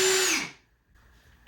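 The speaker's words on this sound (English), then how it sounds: "If you've never drilled through drywall, it's thin, so you just drill maybe a 1/2 inch" A power drill boring through drywall whirs loudly for about half a second, winding down quickly into near silence before briefly starting up again at the end.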